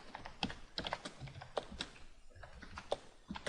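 Steady typing on a computer keyboard while entering C# code, a close, quick run of uneven clicking keystrokes with brief pauses, alone with no talk.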